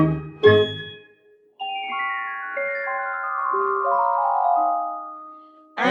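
Magical tinkling of sprite Christmas lights at Disneyland, a bright chime struck near the start, then a cascade of sustained bell-like tones stepping gently downward, clear and alone.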